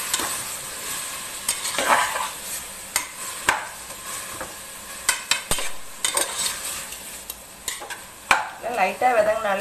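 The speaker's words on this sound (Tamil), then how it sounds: "லைட்டாக விதங்கினாலே போதும், ரொம்ப நேரம் விதக்க தேவையில்லை." Minced mutton keema sautés in a pot for Ramzan nombu kanji. A spoon stirs and scrapes steadily with sharp clinks against the metal over a constant low sizzle.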